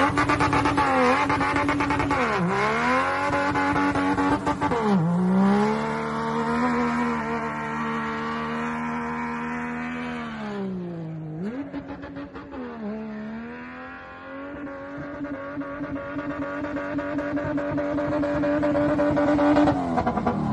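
A Dodge Charger drifts with engine revs rising and falling in repeated swoops, accompanied by loud sustained tire squeal throughout, heard close and without talk.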